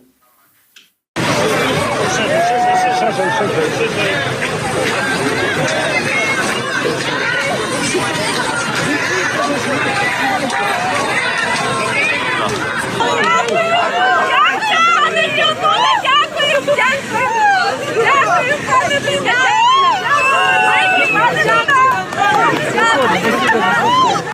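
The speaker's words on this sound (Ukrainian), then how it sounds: "львів'яни буквально оточили главу польської держави, вітали оплесками та дякували за підтримку" A crowd of Lviv residents surrounds the Polish president in the street, a dense, steady hubbub of many voices with scattered applause and greeting shouts, close and continuous after a brief quiet start.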